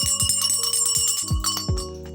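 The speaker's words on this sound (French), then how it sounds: "Ici, c'est une cloche." A ritual bell in an African temple is struck again and again in an irregular rhythm, each loud close hit leaving a bright metallic ring that overlaps the next, with no voices.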